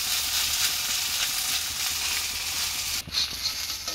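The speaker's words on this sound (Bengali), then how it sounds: "এই যে চাপটি বানাইতেছি" A dal chapati made from masoor and mung lentils fries in a wok with a loud, steady sizzle close up, briefly disturbed by a stir or clatter near the end.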